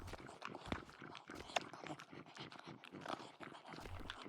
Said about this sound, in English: Well, I love these dog eating looping sounds.